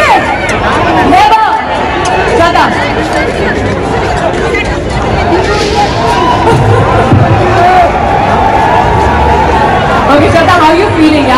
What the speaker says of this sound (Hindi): हमने यहाँ तक कभी भी चंडीगढ़ में इतनी भीड़ कभी नहीं देखी है